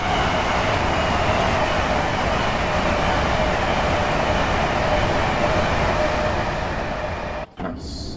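A train in a simulator game running the East Coast Main Line from London King's Cross to Edinburgh Waverley speeds up, a steady, loud rumbling drone with a brief dropout near the end.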